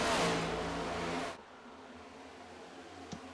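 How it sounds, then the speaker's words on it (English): Race cars at Kansas Speedway in a sim racing game, a loud roaring engine wash that cuts off abruptly after about a second and a half, leaving quiet background hum. "The cars were too loud."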